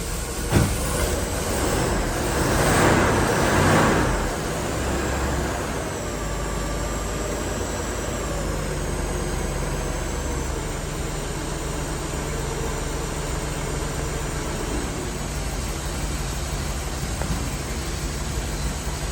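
A Bentley SIII's engine runs as the car is backed out, a steady low mechanical rumble with a louder rushing burst early on, then an even idle-like drone that continues to the end.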